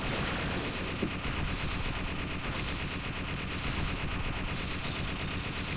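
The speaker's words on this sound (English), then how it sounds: "I just wait for this long, drawn-out explosion" A long, drawn-out explosion in the shoot 'em up video game Crimson Clover: dense, loud, continuous crackling blasts like rapid gunfire that roar without pause for the whole stretch, with no talking.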